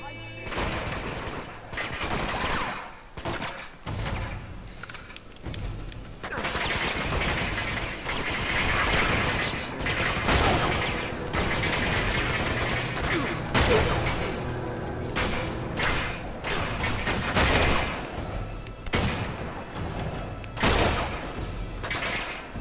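Dense gunfire in Uncharted: Among Thieves, bursts and rapid volleys cracking back and forth almost without pause, loud and layered with booms, while players occasionally talk.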